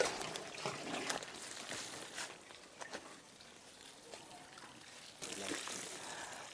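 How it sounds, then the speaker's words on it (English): Water poured onto a compost heap, a soft trickle and patter that rises and falls in bursts, faint and close, with someone talking over it. "So we are pouring water because water provides a very good medium for bacteria"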